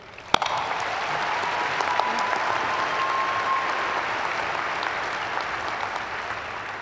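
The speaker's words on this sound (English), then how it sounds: "Class of 2021, please join me with a round of applause thanking our faculty." Graduating class at a fall 2021 commencement applauds its faculty, a loud, steady wash of many hands clapping with a sharp spike near the start, sustained evenly for several seconds.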